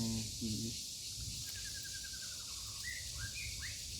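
Faint bird calls chirp and whistle in a few short phrases over a steady hissing background, distant and soft, with no voices.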